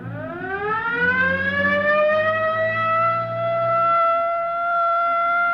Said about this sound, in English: Better hit the siren.